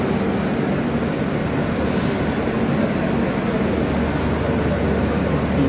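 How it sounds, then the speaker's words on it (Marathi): Hisar Duronto Express pulling out of Mumbai Central station, a steady low rumble of rolling rail wagons with constant broadband noise throughout, no distinct horn or clatter standing out. "आपली ट्रेन ऑन टाईम डिपार्ट होती आहे मुंबई सेंट्रलवरून"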